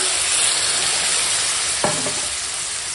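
Spiced vegetables sizzling in a pan for a radish, pointed gourd, mutton and prawn ghonto, with water poured in, a brief splash burst near the middle over the steady frying hiss.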